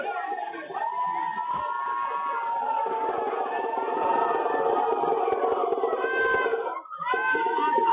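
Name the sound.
crowd chanting hailing the Prime Minister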